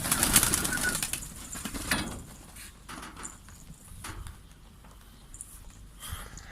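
Pigeons at a new coop after their first flight, Şanlıurfa filo breed: soft bird calls and light fluttering patter, faint and intermittent, with a brief louder rustle near the start and scattered wingbeats later, no talk.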